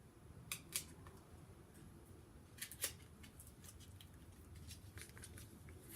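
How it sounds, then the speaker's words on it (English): Scissors snipping open sealed packaging on a smoky eye makeup brush set, a few sharp, faint cuts and crinkles close by in a quiet room, with no talking. "I need scissors to open it because"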